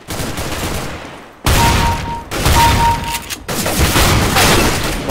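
CS:GO gunfire from an Arms Race match: loud, dense bursts of shots come in several blocks separated by brief gaps, booming and close throughout.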